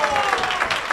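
Dense applause and clapping from the crowd at a professional pool match, the 2024 Premier League Pool Finals, rolling steadily through the whole moment after a strong shot, with commentary voices running underneath.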